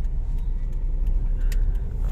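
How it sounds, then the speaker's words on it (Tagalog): A car labours uphill with an uneven, sputtering engine rumble close by, steady low-end drone broken by faint irregular pops, with no talk over it. "Nagpupurot-purot yung sasakyan."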